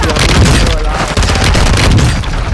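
Loud, rapid shooter-game gunfire rattles in dense automatic bursts with booming impacts, filling the moment from start to finish.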